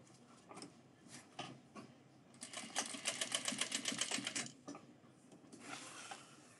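A sewing machine stitches a sweatband to the crown of a reworked 5-panel hat, a quiet close run of fast rhythmic needle clatter preceded and followed by a few isolated mechanical clicks.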